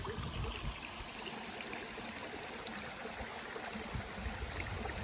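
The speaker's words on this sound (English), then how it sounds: "Nice little creek here." A small forest creek runs after overnight rain on a wilderness trail, a steady, soft trickling and burbling of water over stones, continuous and fairly faint with no voices.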